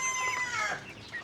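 Dominant F1 layer hens cluck and call in a brief, moderately close burst of overlapping, high-pitched fowl vocalizations with no talking.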